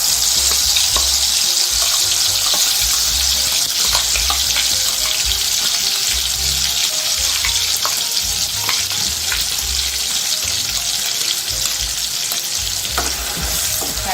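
Ground masala paste for a prawn (kolambi) masala sautéing in hot oil, a loud, steady sizzle and crackle throughout with bursts of stirring and low scraping thuds, no voices.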